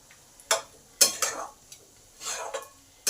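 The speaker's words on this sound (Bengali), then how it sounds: "এবার এই সর্ষে, পোস্ত, চিনি এগুলো সব ভালো করে সমস্ত সবজির মধ্যে মিশিয়ে দিই" Spoon scrapes and stirs mustard paste, poppy seed and sugar through chopped cauliflower stalks in a pan for chorchori, several short separate clatters with quiet gaps between.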